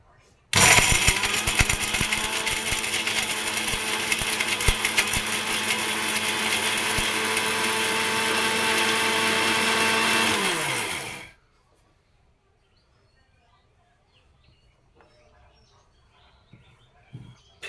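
A mixer grinder roars loud and continuous for about ten seconds while grinding dried bori into powder, then cuts off abruptly into near silence.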